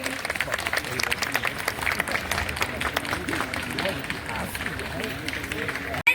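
Audience applause greeting a poet at a Hindi poetry gathering, steady dense clapping from a crowd filling the whole stretch, broad and continuous before cutting off abruptly at the end.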